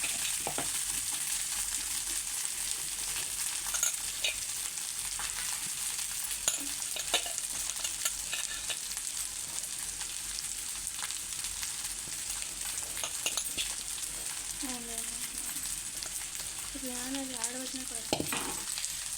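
Leftover rice mixed with lemon juice for lemon pulihora sizzles in a hot pan, with steady frying crackle and intermittent scraping of a spoon stirring it, continuous and close throughout.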